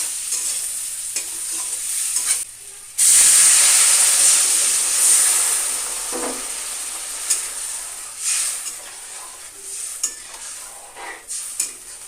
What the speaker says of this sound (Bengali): আরও 1-2 মিনিট মশলার সাথে আলুটাকে ভালো করে ভেজে নেব।